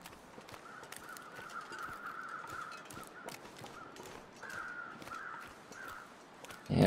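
Crow cawing in the survival game The Long Dark, a raspy harmonic call held over a steady bed of wind-like noise and clicks, repeating in two stretches at moderate distance.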